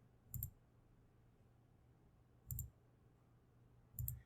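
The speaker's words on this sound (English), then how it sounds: "for negative 27 squared, you can type that into your calculator" Three sharp, faint clicks spaced a couple of seconds apart as keys are pressed on a calculator, isolated against a quiet background hum.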